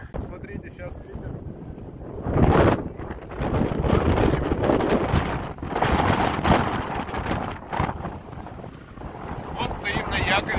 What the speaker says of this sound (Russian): Смотрите, сейчас ветер.